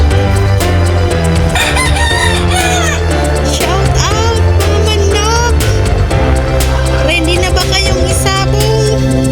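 Several rooster crows ring out one after another over a dense, busy background of steady tones and other noise.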